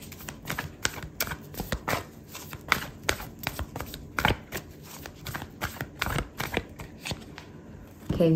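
Tarot and oracle cards being shuffled close up: a steady run of crisp, papery riffles and flicks with a quick uneven rhythm, heard alone with no talking.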